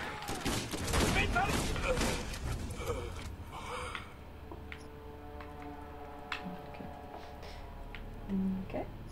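Borderlands gunfire crackles in a dense burst of rapid shots over the first few seconds, then thins to scattered faint pops and mechanical clicks as the fight quiets.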